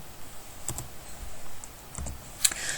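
Keys clack in a few scattered clicks on a computer keyboard while code is typed for an if branch in Lazarus, with sharper taps near the end, quiet and close with no talk.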